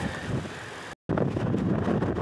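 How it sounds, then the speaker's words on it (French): Strong Atlantic wind buffets the microphone on a mountain bike ride at Boca do Risco, a loud, steady broadband roar that cuts out for a moment and then resumes. "Le vent de l'Atlantique, assez intense."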